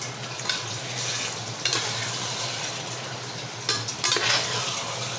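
Marinated mutton being stirred with spices in a hot pan, a steady sizzle with scraping spoon strokes and occasional clinks against the metal, close and continuous.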